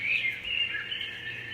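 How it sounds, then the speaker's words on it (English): Birdsong setting on a white noise sound machine: a short, steady chirping trill over a faint hiss, alone and fairly close. "Birds."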